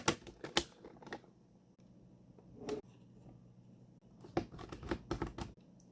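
Screws come out of a vintage Maxon MX 1003 three-channel FM wireless intercom, heard as close, sharp clicks and plastic rattles in bursts at the start and end with a quieter stretch between.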